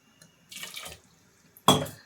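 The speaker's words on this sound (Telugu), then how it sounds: "ఆల్రెడీ పోసిన వాటర్ ఒక చెంబు" Water pours into a pot of halved potatoes being readied for boiling for aloo kurma, heard as two short splashing bursts close by, the second louder, with a quiet gap between them.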